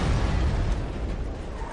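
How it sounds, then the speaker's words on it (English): Explosions in the shooter game Borderlands 2, a loud, close burst of booming blasts with a rough, noisy tail that fades slightly over under two seconds, with no voices. "Explosions!"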